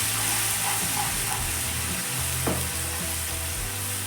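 Garlic paste sizzles with onions in a hot pan for a spicy restaurant-style dish, a steady, close frying hiss with occasional stirring scrapes and no voices.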